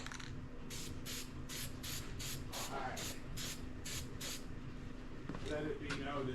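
Spray paint hisses in rapid short bursts while misting engine manifolds in a garage, a string of quick sprays with longer hisses near the end, and a voice talks throughout.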